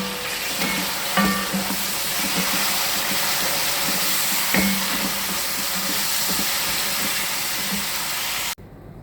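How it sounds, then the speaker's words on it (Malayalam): Onion and tomatoes fry in a pan for spinach dal, giving a steady close hiss and sizzle that runs without a break for about eight seconds and then cuts off abruptly. "ഉള്ളി ഇവിടെ ഫ്രൈ ആയി കിട്ടിയിട്ടുണ്ട്. നമുക്കൊരു 2 തക്കാളി അതിലോട്ട് ആഡ് ചെയ്തു."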